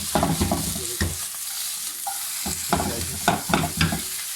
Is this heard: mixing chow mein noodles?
yes